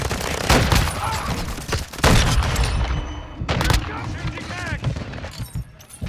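Rapid bursts of video-game gunfire from Call of Duty on the small Shipment map, loud and close with dense overlapping shots and a few heavier booms, continuing across the whole stretch with a speaking voice in between.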